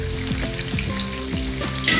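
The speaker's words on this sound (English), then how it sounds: "We're starting to sizzle." Pasta sizzling steadily in a pan of melted butter and oil, a loud continuous crackle with stirring scrapes and clinks of a utensil against the pan.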